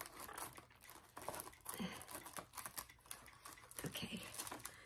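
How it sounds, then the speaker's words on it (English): Tape-wrapped packaging being cut out of a cardboard box, heard as close, irregular crinkling, tearing and snipping noises in quick bursts with no talking. "I'm gonna cut them out of their box because they taped them to smithereens again"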